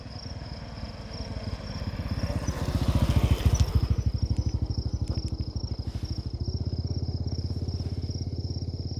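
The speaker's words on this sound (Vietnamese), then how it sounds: "Đây là có một cái xe máy đang đi này" Motorbike engine running steadily on a road at night, a low pulsing putter that swells as it draws closer around the middle and then holds, with a constant high insect chirr throughout.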